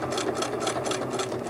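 A sewing machine runs steadily, stitching in the ditch along a quilt seam, its rapid needle chatter continuous and close with a soft rhythmic pulse and no voices.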